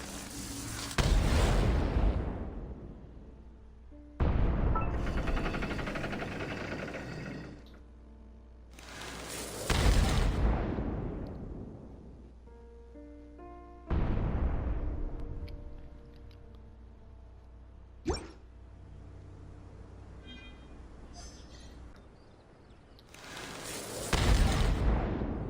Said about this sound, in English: to fire the cannons.